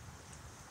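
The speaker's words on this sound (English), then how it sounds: "it's very windy" Wind blowing across a backyard, a steady breathy rush buffeting the microphone throughout with low rumbling gusts, no voices.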